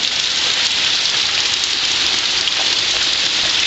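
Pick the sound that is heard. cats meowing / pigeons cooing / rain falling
rain falling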